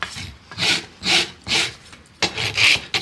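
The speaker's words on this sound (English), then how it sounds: "So when I'm rasping my foot" A farrier rasps the hoof of a large horse during trimming and shoeing: six or seven long, gritty strokes in an even rhythm, close and loud, with short pauses between them and no talking.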